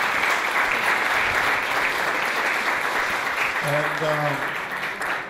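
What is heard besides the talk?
applause for a speaker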